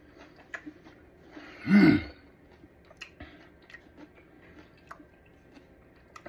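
Someone chews a mouthful of homemade Kani crab salad, with one brief, close, soft crunching burst in an otherwise quiet moment and faint ticks around it.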